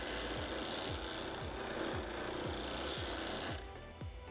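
A skew chisel is pressed flat against a grinder's tool rest and sharpened. The wheel's steady whine runs under a rhythmic series of about a dozen scraping grinding passes, close and clear, before the sound drops off near the end.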